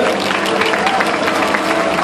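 An audience at a science olympiad award ceremony applauds loudly and steadily, a dense wash of clapping hands with no break.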